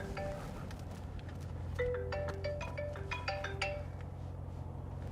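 A melodic phone ringtone plays a short run of tones over the low engine hum of a 2018 Chevrolet Corvette, moderately loud.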